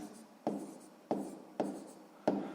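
A pen or chalk writes math notes, with four sharp strokes landing at a steady rhythm over faint rubbing, close and quiet with no talking.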